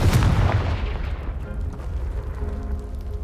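Confringo blast spell in a Harry Potter video game, a sudden loud booming explosion with a heavy rumbling low end that decays into a fading debris rumble over about three seconds.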